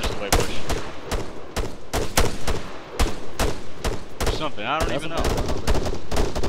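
Gunfire in the video game Operation Thunderbolt rattles in loud, rapid bursts and single shots nearly throughout, while a voice talks briefly over the shooting.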